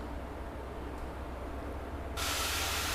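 Graphene spray sealant misted onto a car body panel: a steady close hiss of spray that grows louder and brighter near the end, with no talk.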